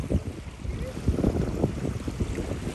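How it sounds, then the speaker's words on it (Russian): A boat paddled through water on a lake outing in Mexico, with churning splashes and rough wind buffeting the microphone, continuous and close, while people talk now and then. "загребает воду"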